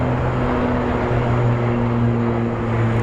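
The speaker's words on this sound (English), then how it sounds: "And there's our Contour Embraer" Contour Airlines Embraer 145 regional jet at Phoenix Sky Harbor, a steady loud engine roar with sustained low tonal hum, constant throughout with no voices.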